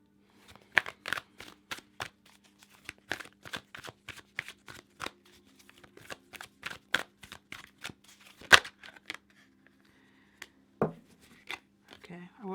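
Tarot cards are shuffled by hand in a quiet room, a long run of quick crisp riffling snaps in irregular bursts, then a brief pause and softer handling sounds at the end.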